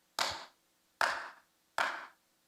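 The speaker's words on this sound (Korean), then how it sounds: "박수로." Three separate hand claps, evenly spaced and fairly faint, ring out in a quiet church during a Sunday morning service, with no talking in between.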